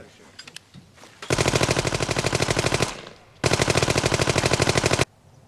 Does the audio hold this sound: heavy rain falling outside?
no